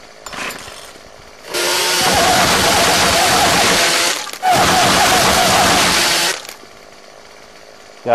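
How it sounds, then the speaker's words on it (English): In the 7 Days to Die video game a chainsaw rips through material in two long bursts. The loud, harsh roar runs for several seconds, cuts out briefly, then roars again before stopping. Quieter sounds come before and after the cutting. "How do you live without a chainsaw, right?"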